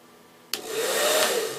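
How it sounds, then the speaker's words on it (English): A hair dryer switched on while running off a Go Power GP-ISW1000-12 inverter: a quiet hum, then a sudden click as the motor kicks in and a loud steady airy whoosh that holds to the end. "whenever I turn on the hairdryer right now"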